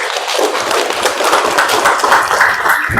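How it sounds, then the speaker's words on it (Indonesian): A classroom of vocational school students claps for a classmate, a loud, dense burst of hand clapping sustained evenly for a few seconds with no speech. "Tepuk tangan buat Ricky."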